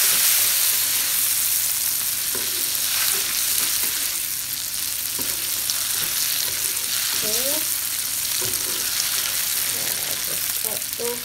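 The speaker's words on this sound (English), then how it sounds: "Just fry until the tofu is little bit become harder, so it will not be cracked and in the fry pan." Tofu fries in a pan while pad thai is being made. A loud, close, continuous sizzle fills the whole stretch, with occasional stirring taps and a faint voice now and then.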